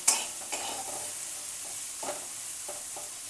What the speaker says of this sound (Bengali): দেখুন আমি খুব সুন্দর করে সয়াবিনগুলো ভেজে নিচ্ছি।